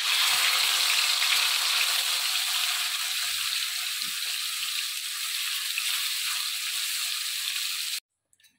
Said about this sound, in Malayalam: ഇതിനകത്തേക്ക് ഞാൻ ഈ മസാല പുരട്ടി വെച്ച ചിക്കനൊക്കെ ഇട്ട് ഒന്ന് വറുത്തെടുക്കുക